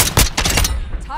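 Close, loud rapid bursts of weapon fire in Call of Duty, several quick shots in a tight rhythm, then a brief fading tail.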